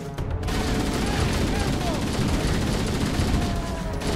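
Dense, continuous gunfire in the video game Halo: MCC, loud and rapid without a break, with someone talking over it.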